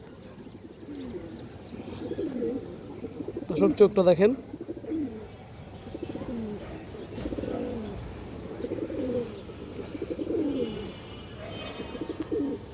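Afsan Bagha pigeons, including a female, cooing in repeated soft rolling calls with a brief flutter midway, while someone talks over them.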